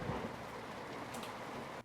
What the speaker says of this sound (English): Dang it, it's raining again.